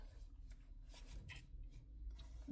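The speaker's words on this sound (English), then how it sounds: "There's like these tiny fucking little circles that I'm using like nail file scissors that are round to cut." Small round nail scissors snip through tiny paper circles, a few soft, crisp cuts close up over a quiet, low background hum.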